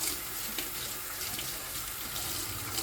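Tap water runs steadily into a sink while a part from a De'Longhi ECAM 650.85.MS espresso machine is rinsed, giving a close, constant splashing rush.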